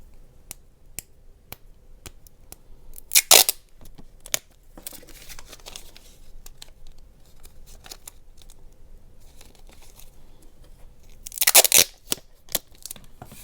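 Sellotape torn from the roll and taped over the edge of a newspaper craft leaf: two short, sharp rips about eight seconds apart, with faint clicks and handling rustle in the otherwise quiet room.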